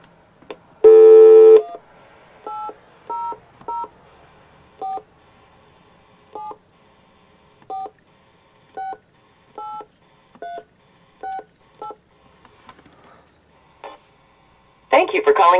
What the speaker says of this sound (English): So now we will make a telephone call. I'll use the speakerphone because this way you can hear it.